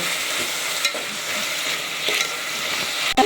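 Continuous loud sizzling of vermicelli frying in a hot pan, with a soft stirring scrape near the end.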